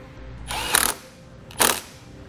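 Two short bursts of a 12 millimeter socket wrench working the nut on the battery terminal of a 2018 Jeep Wrangler, close and fairly loud, with quiet pauses between.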